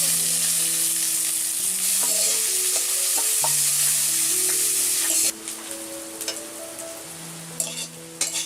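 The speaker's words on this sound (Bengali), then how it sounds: "তেলটা গরম হয়ে গেছে এবার দিয়ে দেব জিরে এবার দেব দুটো শুকনো শুকনো লঙ্কা এবার দেব পেঁয়াজ" Onion frying in hot oil with cumin seeds and dried chillies, a loud steady sizzle that turns to bursts of stirring and spatula scraping in the pan.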